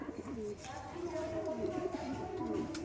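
Kalshira pigeons coo in soft, rolling, repeated calls, close by, over a faint background. Someone talks over them.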